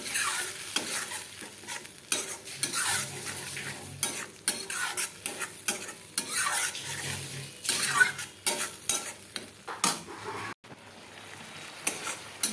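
Sautéing in a frying pan before parboiled potato goes in, close stirring and spatula scrapes in uneven bursts over a soft sizzle, with short quiet gaps and no voices.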